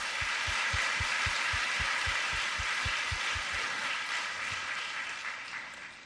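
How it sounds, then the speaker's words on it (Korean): Church congregation applauding during a worship service, a dense, loud wash of clapping with a low rhythmic thump beating underneath for the first few seconds, then the applause slowly fades toward the end. "우리 하나님께 영광의 박수 올려드리겠습니다"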